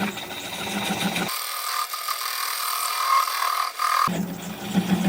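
A wood lathe turns a live-edge cherry-plum bowl slowly, at about 400 rpm, with the gouge on end grain. It makes a steady, even mechanical whir with a faint rasp of the cut, close and continuous, with no talking.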